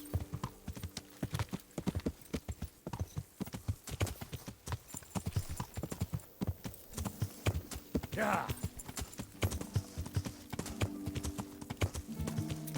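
Horse hooves clip-clopping in a medieval game world, a close, steady rhythmic clatter of hoofbeats running throughout, with a brief whinny-like cry and a voice speaking over it.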